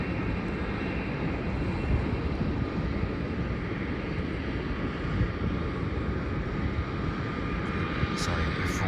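A steady, distant roar of a Gulfstream jet readying to depart, broadband rumble with wind buffeting, faint and continuous throughout.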